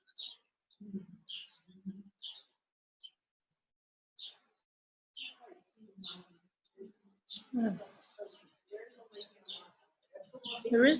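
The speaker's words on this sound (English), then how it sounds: "Lots of birds." Small birds chirp in short, scattered bursts outdoors near a lake with a mountain view, light and fairly close, mixed in with intermittent quiet talk.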